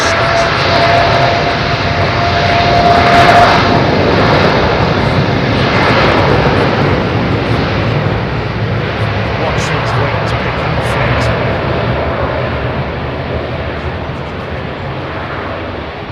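An airliner taking off at London Heathrow Airport in the evening, a broad steady engine roar that stays loud throughout and slowly eases toward the end, with a voice talking over it.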